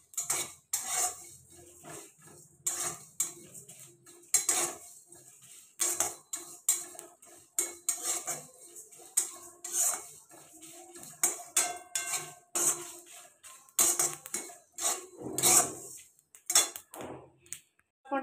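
A metal spoon scrapes and clinks against a pan while panch phoron spices are stirred and fried for mango chutney, producing rapid irregular knocks and scrapes throughout with faint sizzling, close up and without speech.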